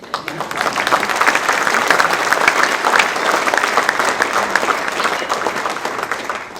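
An audience at a chamber of commerce annual meeting applauds a speaker, a sustained wash of many hands clapping that swells loud and holds for several seconds before slightly easing.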